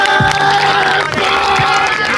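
A crowd at a rap battle semifinal cheers and claps loudly under a thumping beat, with a few whoops over steady music.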